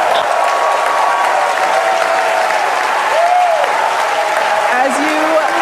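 A large crowd applauds and cheers steadily throughout at a SpaceX Starship launch, a dense wash of clapping with occasional whoops rising above it.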